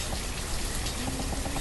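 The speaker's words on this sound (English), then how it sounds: "The rain's jacking me up." Rain falls across a medieval village in the city-building game Banished, a dense, even hiss of pattering drops that stays steady and close for the short stretch, with no talking over it.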